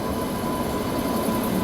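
The Kacheguda–Chittoor train runs past as a steady, continuous rumble with a rolling mechanical drone, close and even in loudness, with no voices over it.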